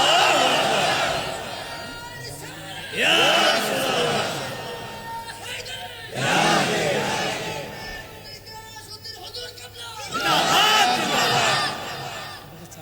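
A large crowd at the Fakirbari Darbar shrine gathering in Mirpur, Dhaka, on Shab-e-Qadr night chants religious slogans in loud, rhythmic surges that rise and fall, with quieter lulls between each shouted wave.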